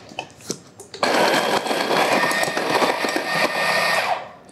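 A Wilfa coffee grinder grinds El Salvadorian natural-process coffee beans, a loud, close, harsh whirring burr grind that starts abruptly after a second of small clicks and runs steadily for about three and a half seconds.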